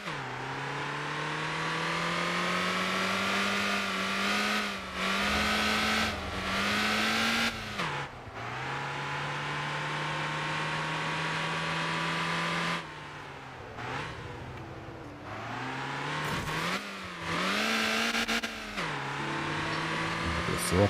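A car engine in the Motor Town driving game drones steadily and loud, pitch climbing and dropping through gear changes and brief lifts of the throttle, with a voice talking over it at times.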